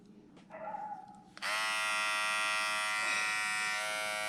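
A Philips MG7770 trimmer fitted with a small precision guard switches on after a brief rustle and then runs alone as a loud, steady, high-pitched electric buzz close to the listener.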